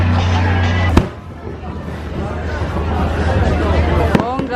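Fireworks go off at an outdoor bazaar, a sharp bang followed by crackling bursts and another bang near the end, heard over a busy crowd with people talking close by.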